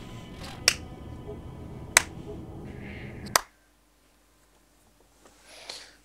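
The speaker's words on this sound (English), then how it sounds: "I will give you a round of applause." Three sharp, separate claps sound in a Borderlands game scene, about a second apart over a low background hum that cuts out abruptly after the third, followed by near silence and a faint swell.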